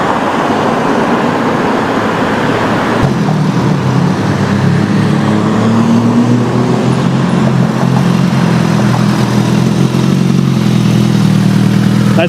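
Motorcycle passing on a roadway, a loud, close, continuous engine drone in the middle of traffic noise, with the engine note rising in the second half and no talking.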